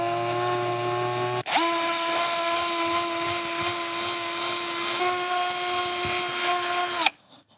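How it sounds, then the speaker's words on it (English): Emery cloth on a spinning mandrel sanding the inside of an aluminum bicycle steerer tube, a loud steady high-pitched power-tool whine that starts abruptly after a short idle hum, holds for several seconds, then cuts off. "a little mandrel that holds emery cloth, and I'm going to sand the inside so that it's smooth"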